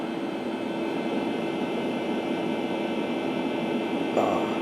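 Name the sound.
old computer hard drive droning loudly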